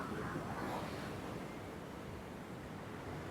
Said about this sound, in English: Really is quite ferocious, the waves bashing into the coast here